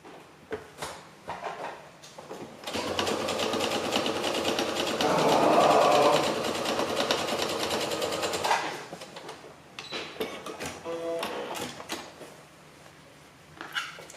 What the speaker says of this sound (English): So I think I just literally sew right across.